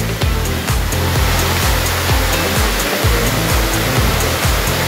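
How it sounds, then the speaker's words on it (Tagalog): A mountain waterfall gives a loud, steady roar of rushing water that fills the whole stretch without a break, with low rumbling pulses underneath and no talking. "Puro falls yan."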